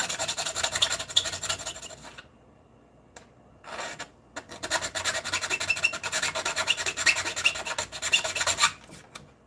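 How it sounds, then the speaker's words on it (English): A metal file rasps against plastic in long, harsh scraping strokes, loud and close, with a brief pause near the start and another short gap before the steady filing resumes for several more seconds. "it's the file and the plastic not liking each other"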